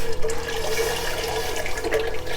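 Broth is poured from a carton into a soup pot for chicken noodle soup, making a continuous close splashing and gurgling stream with no pauses.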